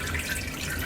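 Water is poured from a small container onto orchid potting medium, giving a short, steady splashing trickle that is close and fairly loud, with no talking.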